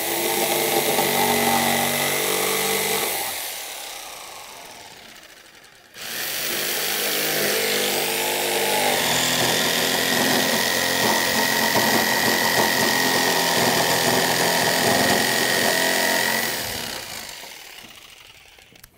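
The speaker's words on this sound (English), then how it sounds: "When you're cutting back on a curve like this with the jigsaw, you want to just hold your saw a little bit on an angle this way" Jigsaw cutting cedar deck boards, a loud sustained buzzing cut that stops briefly, then resumes for a long steady run before winding down, close and alone.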